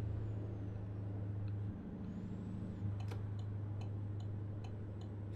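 Steady low engine drone of a truck in American Truck Simulator, hauling forklifts on the road, with a brief dip in engine tone partway through and faint ticking of an indicator layered over it.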